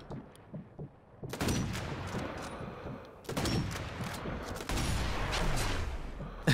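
Fast shots from an enemy sniper in Sniper Elite V2, heard as bursts of sharp, close gunfire that come in two loud clusters with ringing tails over a low ambient background.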